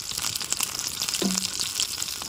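Spicy kal meen fish fries in hot oil in a village kitchen, giving a steady, close hiss and sizzle with small crackling pops, plus one brief scraping or stirring sound partway through.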